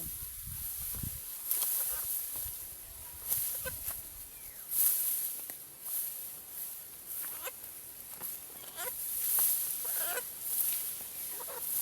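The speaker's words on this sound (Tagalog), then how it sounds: "Nagalit na yung manok na dala natin." Chickens cluck and squawk intermittently in short bursts, fairly close, over a persistent high-pitched hiss of background noise.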